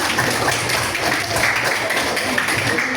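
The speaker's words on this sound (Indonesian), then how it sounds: "Tepuk tangan untuk kita semua" Classroom of students applauding together during a geometry lesson, a short dense burst of close, loud clapping that stays busy throughout with faint voices mixed in.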